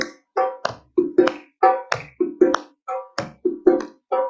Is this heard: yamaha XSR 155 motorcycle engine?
no